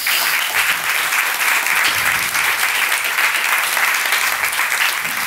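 Audience applause at a French public talk day as a speaker is thanked: dense, steady clapping from a crowd, even in loudness throughout, with no voices over it.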